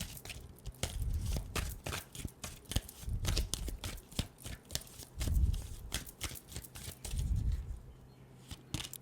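Tarot cards are shuffled and handled up close, producing quiet rhythmic riffling bursts and soft taps in repeating waves, with no talking.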